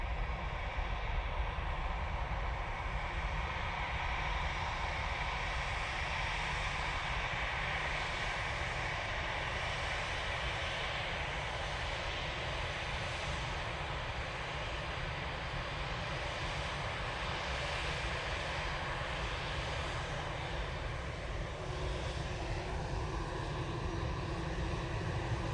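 A Finnair Airbus A319 airliner at Manchester Airport produces a faint, continuous, broad jet roar that holds steady over a long stretch, distant rather than close.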